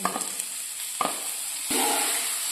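Boiled carrot and beetroot being stirred and fried in a spice mix, a constant close sizzle broken by a few sharp scraping stirs of a spoon against the pan, without any voices.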